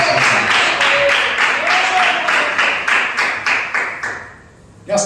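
Church congregation clapping hands in praise to God, a sustained dense round of applause filling the room, swelling slightly then tapering off before a brief pause.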